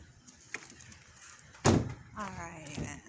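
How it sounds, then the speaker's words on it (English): Door of an old 1882 milling company building being shut and locked, a sharp solid thud followed by rattling and clicking of the lock, close and loud amid quiet background noise. "Gotta lock the door."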